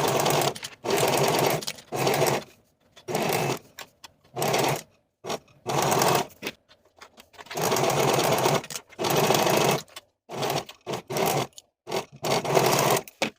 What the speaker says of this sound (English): And then sew the side bottom pieces to the back pant with a 1/4 inch seam allowance.